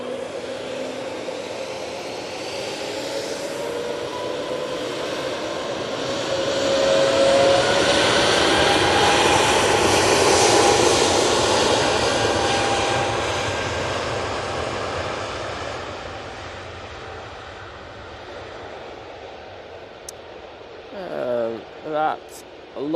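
An Airbus A320neo departs Manchester Airport for Munich, its jet roar swelling from a distance to a loud peak and then fading away, with a voice speaking briefly near the end.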